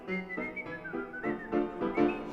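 Whistling in a song gives a clear, bright melodic line, each note gliding into the next in a lilting tune. It sounds close and carries alone over a soft accompaniment, with no voices.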